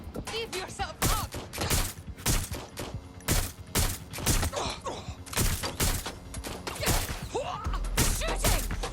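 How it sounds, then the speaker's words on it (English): Gunfire in the video game Watch Dogs: Legion rings out as repeated sharp shots in irregular bursts, loud and close, with groans and mechanical clatter between the volleys. "Shooting!"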